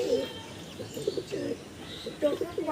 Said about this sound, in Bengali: এটা মাদি পায়রা, ওটারই জোড়া